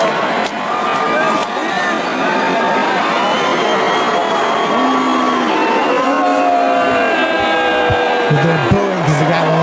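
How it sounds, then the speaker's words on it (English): Large audience booing a man who refuses to stand up, a sustained, low, droning chorus of boos rolling through a big room, loud and continuous, with people talking over it. "They're booing because the guy won't stand up."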